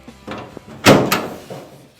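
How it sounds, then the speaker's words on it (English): A single solid thump of a roadster's car door being pulled shut, close and loud, with faint rustling and movement before and after. "Get the door closed here"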